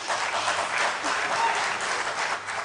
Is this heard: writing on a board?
no